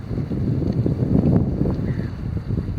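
A breeze rushes over a boat in Bristol Harbor on Narragansett Bay, heard as a steady low buffeting of wind noise against the microphone, loud and continuous throughout.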